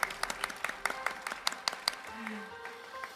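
Applause from an audience at a Korean court day ceremony, a ragged series of separate hand claps that taper off, fairly faint and distant, with a brief low tone near the end.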